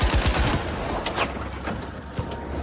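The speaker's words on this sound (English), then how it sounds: "Stop shooting at me, bro." Rapid bursts of automatic gunfire in the shooter game The Finals, a fast crackling volley up front followed by scattered booming shots and impacts, loud and close.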